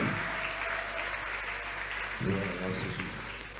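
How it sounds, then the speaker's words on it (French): A church congregation at a Sunday worship service applauds and cheers, a steady wash of clapping with a swell of voices joining partway through. "Nous t'acclamons très très fort pour tout ce que tu fais au nom de Jésus"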